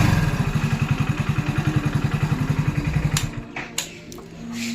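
The self-starter motor on a Hero Splendor BS6 motorcycle, freshly greased, cranks with a fast, even chugging rhythm up close, then stops, leaving a few faint clicks and clunks.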